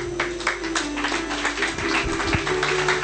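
A church congregation applauding during a sermon, dense steady clapping from many hands filling the room, with a sustained musical tone underneath.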